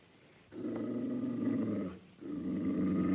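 A dog growls in a sustained, low rumbling snarl that starts abruptly, breaks off briefly, then resumes, loud and close with no talk over it.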